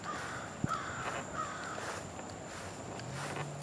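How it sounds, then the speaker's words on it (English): Short caws from crows somewhere off across a Portsmouth, Virginia city park, faint and spaced apart over a steady outdoor hum, with a single sharp tap early on. "Crows are over that way."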